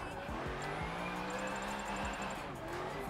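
A car drifting in Forza, engine droning steadily with long sustained tire squeal and repeated gear-shift revs, close and continuous, faint background chatter.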